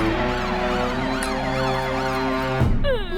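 A wailing siren sweeps up and down continuously, loud and close, with a second siren tone layered in; no voices.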